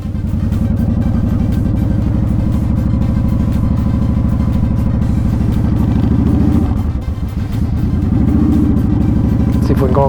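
A motorcycle engine chugging at slow speed, a loud, continuous low throb with a pulsing rhythm and a brief dip and recovery in the revs, up close throughout.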